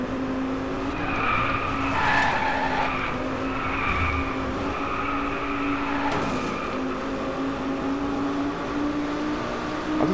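Handbrake drift in a car in the DRIVECLUB racing game at Lake Shoji: steady, loud tire skidding and squealing over a constant engine drone, with sharper squeal bursts through the drift and no talking.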